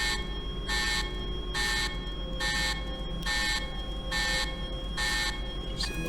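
An alert in a nuclear power station simulation game sounds over a constant loud electronic hum, giving a steady series of about seven evenly spaced, sustained bright tones.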